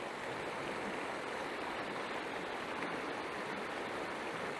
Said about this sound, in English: There is some water splashing on the deck.